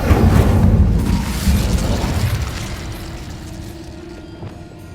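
Fire spell blast in Hogwarts Legacy: a heavy booming burst at the start that rolls on as a crackling roar, then gradually fades and thins out over the following seconds.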